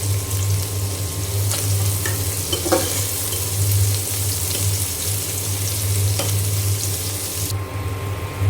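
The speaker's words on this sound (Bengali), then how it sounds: "এখন তেলে দিয়ে দেব পেঁয়াজ কুচি" Chopped onion fries in hot oil with a steady, loud sizzle and a constant low hum, with a few light stirring scrapes and no speech.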